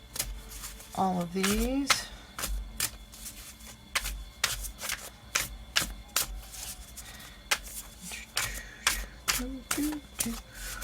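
Tarot cards being shuffled and dealt, with repeated crisp riffling and card snaps in an irregular rhythm, close and clear, while a person speaks briefly near the start.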